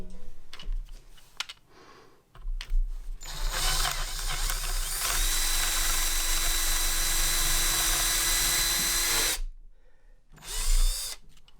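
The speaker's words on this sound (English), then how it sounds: "There we are. Holes are drilled." Power drill boring holes for a Stratocaster guitar bridge: a few short starts, then a loud, steady whine for several seconds that stops abruptly, followed by a brief final burst, close up.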